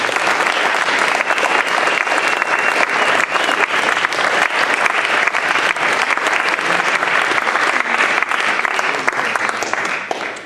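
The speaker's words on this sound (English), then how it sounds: "Can we have a round of applause for everybody here?" Loud, sustained applause from a crowd fills the whole stretch, steady and dense with no pauses.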